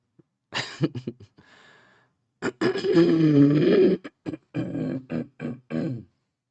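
A person clears their throat with a few short gravelly rasps and coughs, close and isolated with brief pauses between.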